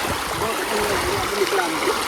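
A river with a low flow runs near Alibag, making a steady, even hiss of moving water that stays constant throughout the short stretch.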